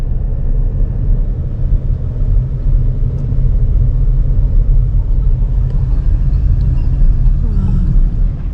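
Cars idle in a traffic jam on a road on Crete, Greece, a steady, loud low rumble of engines that holds without a break throughout.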